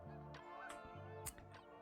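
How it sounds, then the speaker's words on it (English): Ducks quacking in The Sims 4 game, a few nasal honking calls in quick succession near a graveyard garden with a bird feeder, soft and steady without talk. "Is that ducks I hear?"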